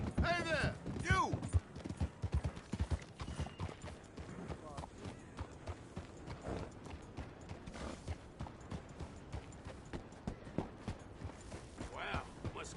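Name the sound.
horse hooves clip-clopping, from video game Red Dead Redemption II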